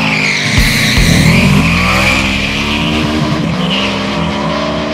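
A Yamaha VMAX motorcycle launches from a standstill on an open road, its engine roaring loudly as revs climb with a brief tire screech, then holding a strong, sustained drone close by.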